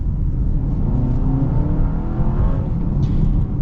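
A 2025 Honda CR-V hybrid SUV accelerates on the road, a steady close whirring drive and road roar heard from inside, its pitch rising gradually, with no voices.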